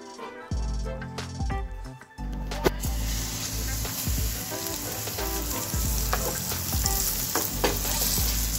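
Pomfret fish frying in shallow oil, a dense continuous sizzle that bursts in after a moment, with occasional clacks and scrapes of a utensil in the pan, close and steady.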